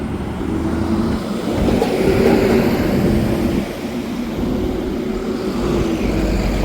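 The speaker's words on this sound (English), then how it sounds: "that's the second garbage truck I just passed" A garbage truck rolls past on a city street, its engine a steady close rumble that swells and then eases as it goes by, with no talking over it.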